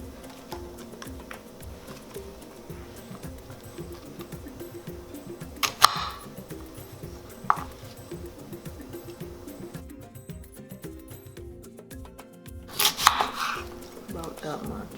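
A knife cuts vegetable rings for vegan rasta pasta, giving a few sparse, crisp chops on a board over a steady low kitchen hum.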